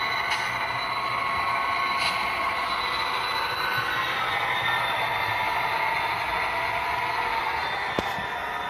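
A model train locomotive pushing a CMX track cleaning car along the rails, a steady close mechanical hum and grinding with a faint whine and a single click near the end.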